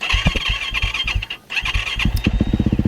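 A Yamaha YZ450 dirt bike fitted with a Riot snow bike kit runs nearby, its engine firing in rapid pulsing bursts that briefly drop out, then return with a quickening, revving rhythm.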